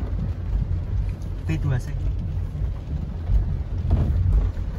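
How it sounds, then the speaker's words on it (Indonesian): Steady rain during an outdoor gathering of a Nahdlatul Ulama group in Taiwan, heard as a loud continuous wash of noise with wind rumble on the microphone and talking voices over it. "Ya, hujan."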